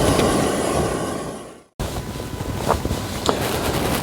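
Strong wind buffets a small Lanshan 1 tent pitched on Dartmoor, a loud, roaring rush with flapping gusts that cuts out for a moment and then returns, with no talking.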